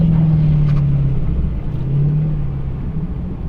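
A Dodge Challenger Hellcat roars hard through a drag race launch, a loud, sustained low engine drone that eases slightly in pitch, heard from inside the car.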